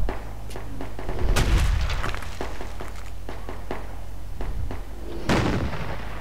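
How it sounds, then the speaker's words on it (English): Mortar shells and gunfire in the military shooter game Project Reality, on the 7 Gates map: heavy booming blasts and sharp gunshot cracks over a constant low rumble, with two especially strong explosions standing out. "the mortar's coming down"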